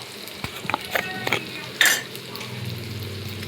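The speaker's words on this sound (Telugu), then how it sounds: "కొంచెం పసుపు కూడా వేసేసుకుందాం ఒక్కసారి కలిపేసుకొని" Potatoes being stirred in a pan with green chili powder and turmeric, giving a few scraping clinks of a utensil against the pan over a low frying sizzle, with a brief louder scrape near the middle.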